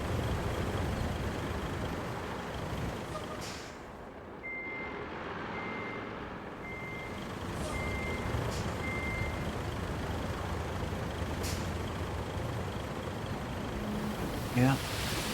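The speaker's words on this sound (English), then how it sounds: "Right here where these trucks refuse to turn." Heavy trucks in the RoadCraft video game rumble with a steady, loud engine drone, a series of reversing beeps sounding partway through, and a brief thump near the end.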